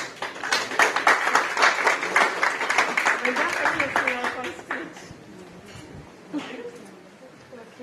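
Audience applause at a business hall of fame gathering, a dense wash of clapping that swells for several seconds and then thins out, with some voices mixed in.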